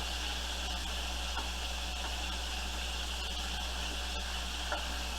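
Pork chops searing in a pan for an apple pork chop dish, giving a steady, fairly quiet hiss and sizzle that runs continuously with a few faint clicks and no talking.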